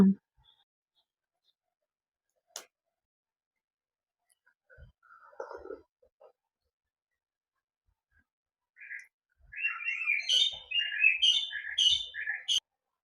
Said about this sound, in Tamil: இந்த கிளிகளோட சத்தம் பின்னாடி பார்த்தீங்கன்னா ரொம்ப அழகா இருக்கும்